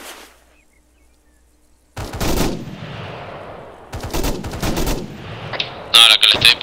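Arma 3 video game gunfire: bursts of automatic rifle and machine-gun fire after a quiet start, loud and close, with sharp sustained volleys and a final intense burst.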